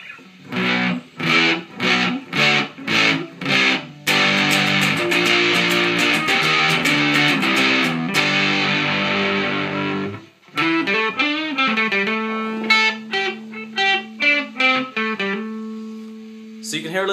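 Fuzzy, grungy distortion from a WMD Geiger Counter pedal on electric guitar: choppy chords at first, then a sustained wall of fuzz, then buzzy picked notes, loud and close.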